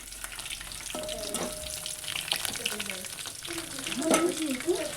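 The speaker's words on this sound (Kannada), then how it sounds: "ಸಾರು ಒಗ್ಗರಣೆ ಹಾಕ್ಕೊಳತ್ತೇನೆ ರೀ" Tempering for saaru (sambar) sizzles and crackles steadily in a hot pan for several seconds, a close, continuous frying hiss with a few louder spits near the end.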